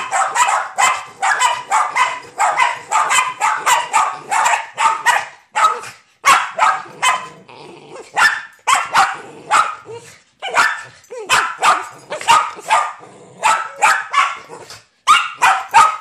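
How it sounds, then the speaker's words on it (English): A dog barks repeatedly in loud, close, rapid bursts that run almost nonstop for about sixteen seconds, with a voice speaking at times between the barks. "What are you barking at, huh?"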